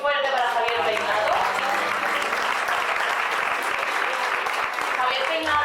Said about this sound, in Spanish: Un aplauso muy fuerte para Javier Peinado.